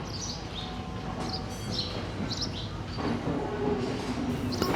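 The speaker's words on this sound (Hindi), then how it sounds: "इंटरसिटी एक्सप्रेस चली गई" An Intercity Express train pulls out of a station in Sri Lanka with a steady, fairly loud rolling rumble, while birds chirp repeatedly over it and no one speaks.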